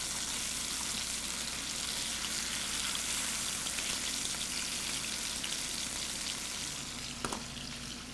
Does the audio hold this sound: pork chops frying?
yes